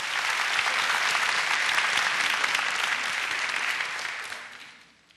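An audience in a school lecture hall breaks into steady applause, thick, bright clapping from many hands that holds strong before fading out over the last second.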